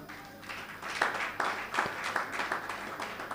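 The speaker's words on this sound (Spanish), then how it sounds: "Un aplauso para ella" A church congregation at an evening service in Bonaire gives brief applause for a sister being recognized. Soft, scattered claps with a few sharper hits rise and fall at a modest, somewhat distant level.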